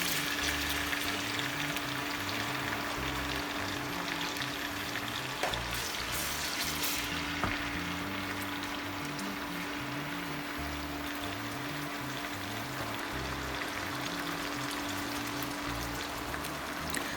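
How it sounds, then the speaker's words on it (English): Sliced onions frying in oil for Ghanaian okro soup, a steady close sizzle and crackle running the whole time with no voices. "I slice some onions and pour it in it."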